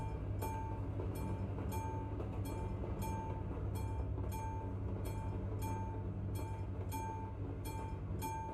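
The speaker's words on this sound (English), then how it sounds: "like a train that goes by here" Train rolling past in a city setting, a steady loud rumble and rattle throughout with regularly spaced clicks like wheels over rail joints, no voices.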